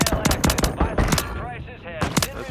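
Gunfire in the battle-royale game Warzone: rapid bursts of automatic shots, close and loud, in clustered volleys with a short lull before a final pair of bursts.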